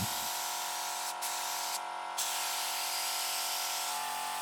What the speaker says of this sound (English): Using a spray tool to work on loosening more rust from the body.